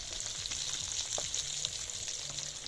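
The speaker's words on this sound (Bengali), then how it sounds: "এই যে মাছ ভাজা করতেছি আমি" Fish sizzles and crackles steadily in hot oil, a close, continuous hiss with occasional pops and no talking.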